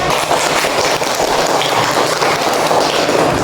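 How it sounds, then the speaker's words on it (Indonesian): A classroom of students claps for a group's presentation during a teaching session, producing loud, dense, continuous applause that sounds like a steady wash with no gaps. "Jadi silakan tepuk tangan."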